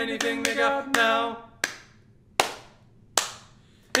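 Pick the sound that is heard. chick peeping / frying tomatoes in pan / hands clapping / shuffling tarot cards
hands clapping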